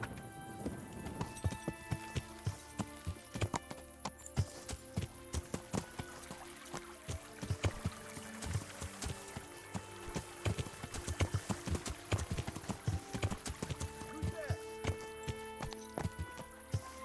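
Steady clip-clop of horse hooves trotting on a hard surface in the video game Kingdom Come: Deliverance, a continuous rhythmic patter of hoofbeats heard up close.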